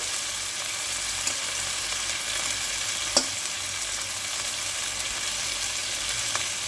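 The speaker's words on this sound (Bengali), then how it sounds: "মাছগুলো দিয়ে ভালো করে নেড়ে চেড়ে একটু সময় প্রায় হয়ে এসেছে।" Prawns cooking in a malaikari curry in a pan, a soft continuous simmering sizzle with a few faint clicks of stirring, no voices.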